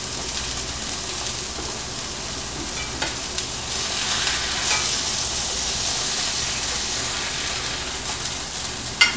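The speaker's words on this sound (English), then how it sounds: "We just want a good sear on them and a good amount of brown" Hamburger patties sear in a hot pan with a steady, dense sizzle and frying crackle that holds loud and even throughout, with a couple of brief clinks near the end and no talking.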